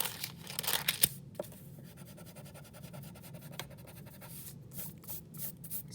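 A pencil scratches across paper in short strokes, with some rustling and paper handling at the start, faint and close.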